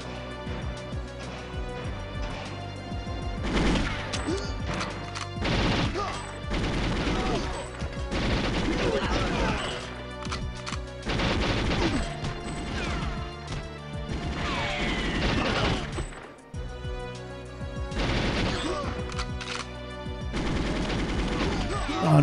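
Enemy gunfire in the N64 game GoldenEye 007: repeated gunshot bursts and impact crashes crackle in quick succession over game music, loud and near, with a brief lull about two-thirds through.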